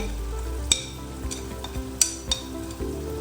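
Spice filling for stuffed bitter gourd (karela), with salt, dried coriander, red chilli and turmeric, being stirred and fried in a pan, giving a soft steady sizzle with a few sharp clinks of the spoon against the pan.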